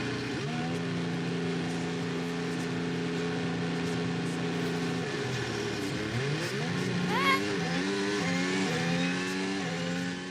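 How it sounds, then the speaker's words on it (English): Max Verstappen's Formula 1 car sits at high steady revs, then drops and climbs through rising upshifts on a launch at the 2023 Singapore Grand Prix, loud and continuous. "So let's hear from Max Verstappen then and see what his start's like on the upshift."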